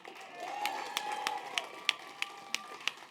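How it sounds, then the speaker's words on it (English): Scattered claps ring out from a crowd at an outdoor Democratic political rally in Clark County, Indiana, spaced unevenly over a steady murmur of crowd noise and a sustained voice-like tone. "Give yourself a round of applause"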